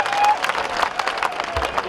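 A short burst of clapping and cheering from spectators at a Canadian kabaddi final between Vancouver and Richmond United, loud and crowded, with brief noise from the public address.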